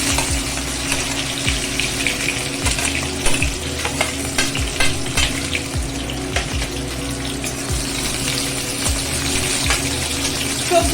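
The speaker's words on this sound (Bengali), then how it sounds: "ফোড়নটা থেকে সুন্দর গন্ধ বেরোলে আমি এর মধ্যে সবজিগুলো অ্যাড করে দেব," Vegetables frying in oil tempered with five-spice and dried chilli for a light rui fish curry: a continuous loud sizzle with regular scraping stirs of a spatula against the pan, no voices.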